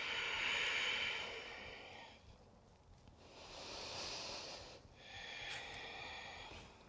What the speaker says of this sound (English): Keep listening to the sound of your breath.